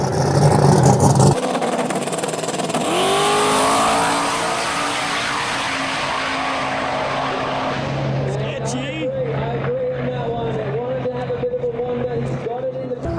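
A radial drag racing car at a Perth drag strip blasts off on a loud, sustained run, engine note climbing steadily before fading as it pulls away, with crowd chatter and talk around it.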